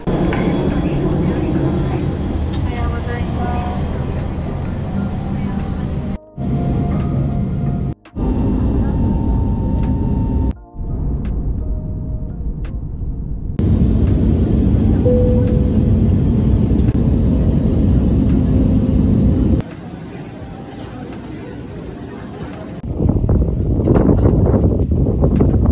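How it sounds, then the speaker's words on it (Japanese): Loud, steady roar of an airplane cabin with broadband engine and air noise, interrupted by brief drops and shifts in level. "今から飛行機乗っていきます。"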